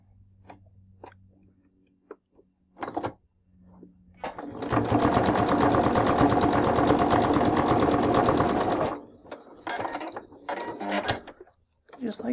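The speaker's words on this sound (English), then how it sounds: "Gonna stay stitch this one the other way" Sewing machine stay stitching a scrappy 3D pinwheel quilt block at 1/8 inch, a loud steady rapid needle whir running about four seconds, framed by fabric handling clicks and a person speaking before and after.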